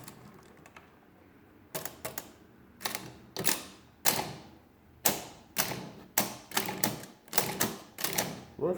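Keys on an early Facit-style or Eastern European mechanical calculator are pressed repeatedly to loosen them, giving a series of sharp mechanical clacks and thunks in irregular bursts, close and loud.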